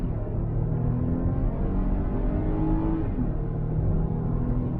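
A 2020 Lexus RX350L mid-size luxury SUV with a 290-horsepower 3.5-liter engine, in sport mode, pulls hard from 0 to 60, its steady, dense engine roar and road rumble holding loud and even throughout without voices.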